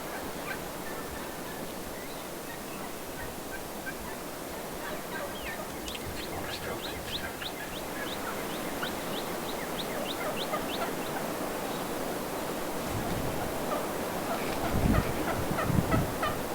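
Several wild turkey gobblers sound off in repeated gobbling bursts, some near and some farther off, over a steady outdoor background with a few louder thumps toward the end.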